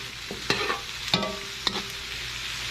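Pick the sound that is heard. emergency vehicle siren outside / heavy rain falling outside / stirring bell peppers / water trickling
stirring bell peppers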